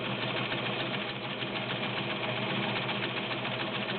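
A vintage White model 614 heavy-duty 1.3 amp sewing machine runs continuously while stitching a decorative scallop pattern, a steady, loud, close mechanical whir with a fast, even needle clatter throughout.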